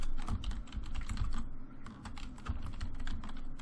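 Fingers type steadily on a computer keyboard, a close run of quick, light key clicks with brief pauses and no voices.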